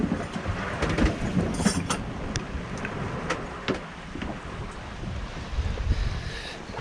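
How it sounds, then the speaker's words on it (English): On a sailboat crossing the Atlantic, steady wind buffets the microphone while waves surge and splash around the hull, a constant loud rushing with intermittent crashes and no voices. "Just a tiny little increase in wind and the sea builds up so quick."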